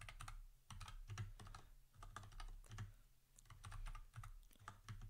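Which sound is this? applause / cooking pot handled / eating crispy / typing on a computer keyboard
typing on a computer keyboard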